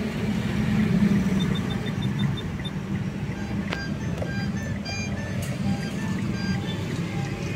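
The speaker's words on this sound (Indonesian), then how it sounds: "Tuh, dia baru bisa nyala mesinnya." Engine of a Mitsubishi Xpander Exceed manual car idling just after starting, a steady low hum with a few chiming beeps above it and someone speaking over it.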